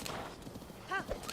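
Horse hooves clip-clop steadily as a horse travels in Zelda: Breath of the Wild, a continuous moderate patter with a brief whinny-like tone near the end.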